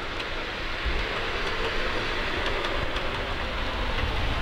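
A model diesel multiple unit made up of a motor car, two coaches and a dummy car runs along the track with a steady rolling rumble and faint rhythmic clicks, close and continuous, with no voices.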